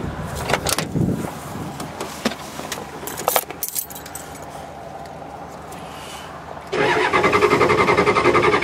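Keys jangle and clunk before a Ford diesel engine, freshly jump-started on a cold start, cranks and fires, then settles into a loud, steady, close rumbling idle.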